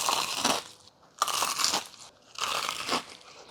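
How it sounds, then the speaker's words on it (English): Bites into crispy fried chicken, three loud crunching bursts in a steady rhythm, close and clear with short pauses between, no talking. "So if you want your fried chicken to sound like this"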